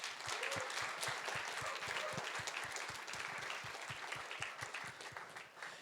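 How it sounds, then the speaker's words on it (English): A crowd at a tech meetup's special 50th event breaks into sustained, dense applause, many hands clapping steadily at close range and fading slightly at the end. "A big applause."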